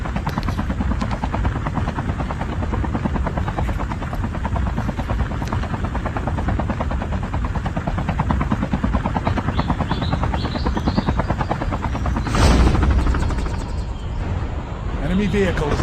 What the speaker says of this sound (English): We can't stay on this chopper.